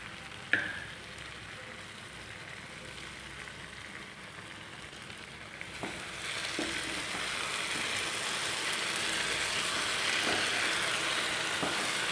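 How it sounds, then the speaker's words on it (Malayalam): Ghee poured into a pan of sweet cassava mixture sizzles in a steady, soft hiss, with a few faint clicks early on, the frying growing slightly brighter and louder over the length of the clip. "ഇതിലേക്ക് 2 ടേബിൾ സ്പൂൺ നെയ്യ് ഒഴിച്ചു കൊടുക്കണം"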